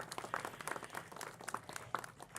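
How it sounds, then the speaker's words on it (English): Faint scattered clapping from attendees at a city council meeting, a brief thin patter of hands heard at a distance in a large chamber. "Round of applause to them."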